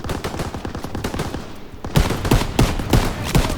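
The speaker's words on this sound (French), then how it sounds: "Mitrailleuse." Rapid machine-gun bursts ring out in a first-person shooter war game, a dense rattling stream of shots that grows louder and punchier midway, with periodic heavier reports over continuous battlefield noise.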